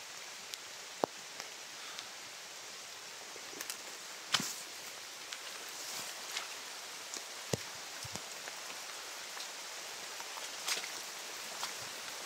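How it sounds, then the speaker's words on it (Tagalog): Heavy rain falls outdoors near a stream, a steady fairly faint hiss of drops broken by occasional sharp drips and taps, with no voices throughout. "Lakas ng ulan."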